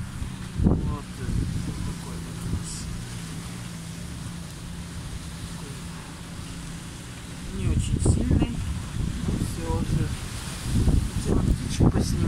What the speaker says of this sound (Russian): нас тут ветер, даже птичек сносит